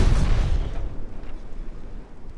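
A torpedo explosion in the naval game Ultimate Admiral Dreadnoughts, 1897 French campaign: one heavy, booming blast at the start that rolls off into a long, decaying low rumble, with no voices.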